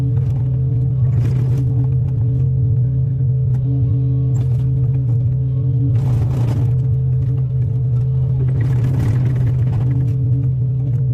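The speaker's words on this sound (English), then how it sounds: "This powerful excavator makes tough IOBS look effortless as it rips out a massive stump like it's nothing" A powerful excavator rips out a massive tree stump: a loud, steady diesel engine rumble with three bursts of clatter and cracking spaced a few seconds apart.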